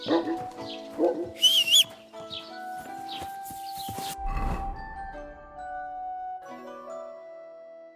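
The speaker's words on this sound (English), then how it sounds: "Stop that whistling." A character whistles a wavering melodic tune in the medieval video game Kingdom Come: Deliverance 2, a short bright whistle followed by sustained tonal notes and game ambience, with no talk over it.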